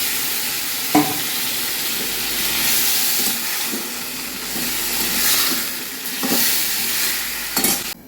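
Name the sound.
fish heads added to pan cooking for muri ghonto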